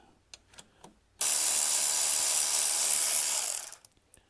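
Ratchet loosening the two 8 mm bolts holding the front ABS sensor on a 2008 Kawasaki Concours 14: a steady, loud whirring hiss lasting about two and a half seconds, preceded by a few faint taps.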